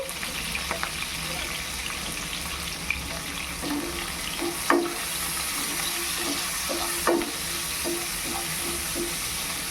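Chilli, garlic and capsicum frying in a pan for prawns, a low steady sizzle with a few soft clinks of stirring, faint and continuous.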